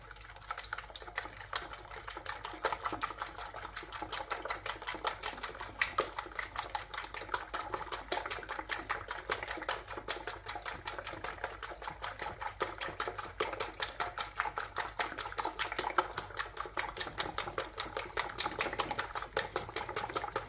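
A thick batter for cardamom and coconut mahamri donuts is whisked by hand in a bowl, giving a steady, rapid, rhythmic clatter that runs close and continuous throughout with no talking.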